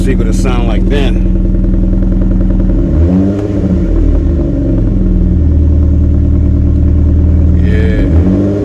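A Dodge Journey engine idles roughly and unevenly, then revs up and settles again, a heavy rumbling roar with some clatter, close by.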